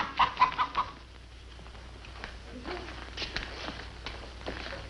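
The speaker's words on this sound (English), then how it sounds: "The hen that lays golden eggs." A hen gives a few quick clucks at the start, then quieter scattered clucking and rustling continues faintly in the background.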